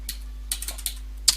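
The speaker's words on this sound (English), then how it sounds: "I'm so lazy with this typing." Keys on a computer keyboard tapped in a few quick, irregular clicks close by, with one sharper keystroke near the end and a low steady hum underneath.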